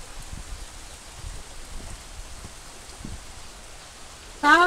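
Rain falls steadily on a village home in a stormy spell, a soft, even wash of patter with faint low thumps throughout, and a voice cuts in briefly at the very end.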